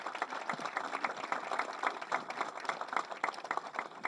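A crowd at a public event in Paysandú claps for a guest, brisk continuous clapping from many people, near and even in level, with faint voices mixed in.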